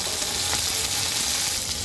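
Onions frying in a pan sizzle with a steady, close, even hiss, no one speaking over the sound.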